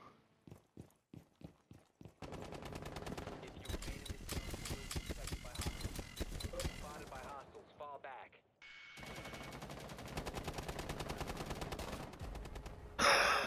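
Gunfire in the video game Rainbow Six Siege opens with a few evenly spaced single shots, then turns into long sustained automatic bursts with a short pause partway through, heard at moderate level.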